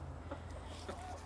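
Soft, faint clucks from hens sitting on a nest, a couple of brief low murmurs over a steady background hum, no talking.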